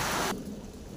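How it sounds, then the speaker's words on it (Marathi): Heavy rain pours down in a village, a loud, dense roar that softens slightly after the first moment and then keeps falling steadily. "बघा मित्रांनो, पाऊस किती आला आहे"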